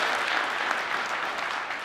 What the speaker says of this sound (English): let's give a big round of applause to John Samuelson